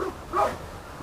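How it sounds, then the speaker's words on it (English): Dogs give a short bark or yip, brief and moderately close, with a faint whimpering tone. "look at them dogs."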